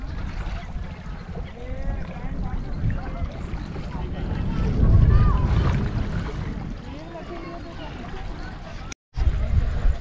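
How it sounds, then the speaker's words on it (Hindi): Boat on the Kasarsai Dam reservoir near Pune, with steady wind and water noise, a low motor-like rumble swelling midway, and people talking throughout. "देखो ये है बोटिंग, बोटिंग हो रहा है"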